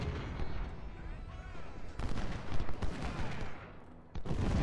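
Dense, continuous battlefield gunfire in the Civil War strategy game Ultimate General: Civil War, with massed musket volleys and booming artillery crackling in overlapping bursts throughout.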